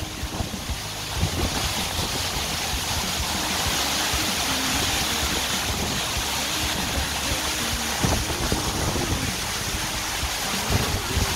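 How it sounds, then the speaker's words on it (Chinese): Kayufeng Waterfall in Shizi Township, Pingtung, running with heavy flow: a continuous broadband roar of rushing water, fairly loud and unbroken, with some wind buffeting and no talk. "还有瀑布哦。"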